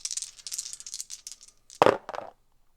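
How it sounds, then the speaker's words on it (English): Three dice are rolled in a solo tabletop game, giving a light clatter followed by a sharp tumble and a couple of quick bounces before settling into quiet. "So I'm going to spend 3 things to roll 3 dice."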